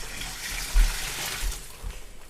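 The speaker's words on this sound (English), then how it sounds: "So here we're taking this warm brine, still warm brine in here," Warm turkey brine pours steadily into a pan during Thanksgiving turkey prep, a broad splashing, gushing wash of liquid with a couple of heavier surges, fairly close and alone without talk.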